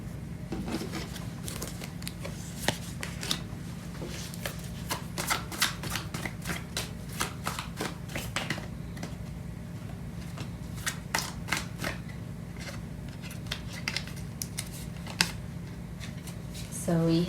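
Tarot cards are shuffled close up in a run of quick riffling and snapping bursts, with a steady low hum underneath and a voice briefly at the very end.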